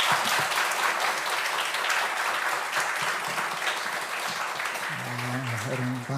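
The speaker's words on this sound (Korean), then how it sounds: "우리 귀한 목사님 보내주신 하나님께 감사의 박수 올려드리겠습니다." A church congregation at an autumn revival service applauds steadily and fully for several seconds, a broad continuous wash of clapping, with a voice coming in near the end.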